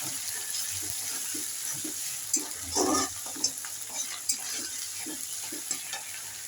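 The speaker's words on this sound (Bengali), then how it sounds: "আদা রসুন আর পেঁয়াজ ভাজা করে নিয়েছি" Browned onion fries with ginger-garlic paste and green chili in a pan for a rohu fish in mustard dish, a close sizzling hiss punctuated by rhythmic scraping stirs and one brief louder burst.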